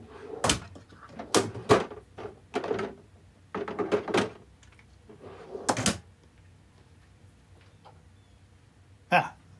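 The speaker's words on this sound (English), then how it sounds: "For comparison, let's check out the top drawer." The top drawer of a DeWalt ToughSystem DWST08290 22-inch tool organizer is worked open and shut, giving a run of close, sharp plastic clacks and thuds over about six seconds, then quiet and one last knock near the end.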